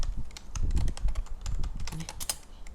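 Rapid typing on a computer keyboard during a Minecraft server session, a steady clatter of close, crisp keystrokes running throughout with no voices.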